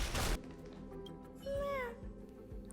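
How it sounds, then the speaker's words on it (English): A cat meows once inside the Honkai: Star Rail video game, a short rising-falling cry heard clearly over steady game background sound, with a soft burst of noise at the start and faint thuds afterward. "Kitty."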